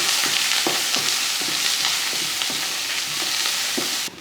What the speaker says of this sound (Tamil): ஒரு பெரிய வெங்காயம் கொஞ்சம் கருவேப்பில் ஒரு மூணு பச்சை மிளகாய் இதை சேர்த்துடலாம் சேர்த்து வதக்கிடுவோம்